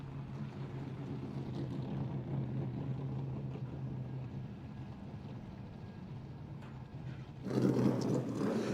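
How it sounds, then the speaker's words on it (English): Stock car engines rumble steadily in the pit lane at a Winton 300 motor race round, a low, continuous drone with a louder surge near the end. "Listen to the sound of those stock cars."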